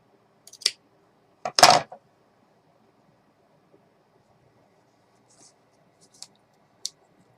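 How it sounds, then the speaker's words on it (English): Scissors cutting canvas fabric for a ruffled bag, a few close, sharp snips and one longer crunching cut, separated by quiet gaps with faint clicks. "I'm going to cut a little bit off of something here. I'm going to cut off an angle."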